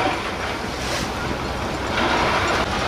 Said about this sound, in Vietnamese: sóng là dội vô kìa